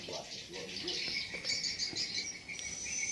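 Swiftlets chirp inside a three-storey swiftlet nesting building, with a dense chatter of high, rapid tweets and calls that carries on throughout over a faint insect-like hiss.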